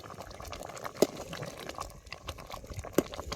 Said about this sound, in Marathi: त्याला कशी कळकळून चांगली उकळी आल्या बघा.